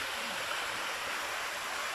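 A waterfall cascades down a mountainside in the Kingstown Forest Reserve on St. Vincent. It makes a steady, broad, hissing rush of falling water that stays close, loud and even throughout, with no voices.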